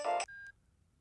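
A phone rings in a Telugu movie scene: a brief electronic tone burst followed by a thinner sustained beep, clear and isolated, lasting about half a second before silence.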